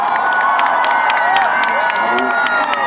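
A huge festival crowd cheers and shouts continuously, dense and loud, with sharp whoops and claps cutting through the steady roar.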